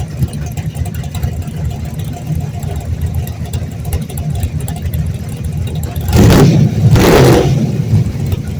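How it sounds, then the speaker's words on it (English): A big-block drag car running nitrous rumbles at idle, then two loud, sharp hissing bursts of nitrous purge, close by, over the engine. "Shane bleeding off a little nitrous there"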